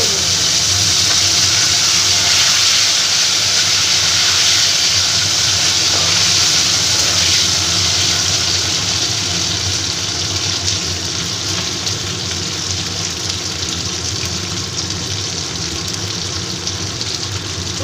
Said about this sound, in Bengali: কচুগুলোকে আমি ভালো করে ভেজে নেব